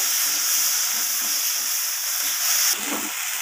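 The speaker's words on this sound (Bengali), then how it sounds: "এরপর ভালোভাবে আমি মশলাটাকে কষিয়ে নেব।" Spice masala for an egg omelette curry sautés in a pan with a steady close sizzle and hiss. Soft stirring scrapes are heard, and the sizzle briefly swells near the end.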